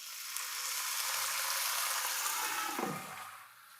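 A splash of water hits water spinach sizzling in a pan and sets off a loud, hissing burst of steam. The hiss holds for a few seconds, then drops off sharply into a quieter simmer.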